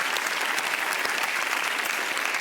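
Applause from an audience at a Norwegian talk show fills the whole moment, a dense, steady wash of many hands clapping at even loudness with no voices above it.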